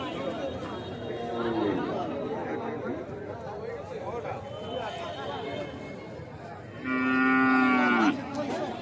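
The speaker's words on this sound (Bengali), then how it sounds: "দিশি গরু" Local-breed cows moo loudly amid busy cattle market chatter, with one long, close bellow near the end over people talking.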